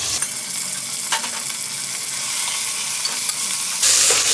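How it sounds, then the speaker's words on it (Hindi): Minced beef keema frying with onions in a pan, a loud continuous sizzle with occasional scrapes and stirring clatter, close up, rising to a sharper hiss near the end. "2 से 3 मिनट तक अच्छा सा फ्राई करेंगे।"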